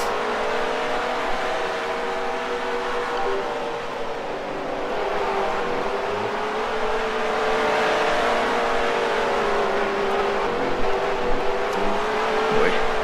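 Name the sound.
race cars driving in a Second Life dirt race, video game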